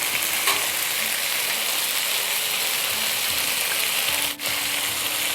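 Hokkien mee noodles stir-fry loudly in a hot pan with a constant dense sizzle as dark sauces go in, and metal utensils scrape and rattle throughout.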